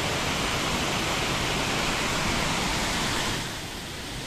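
The Mae Pan waterfall in Chiang Mai roars in a loud, constant broadband rush of falling water that fades slightly toward the end, with no voices.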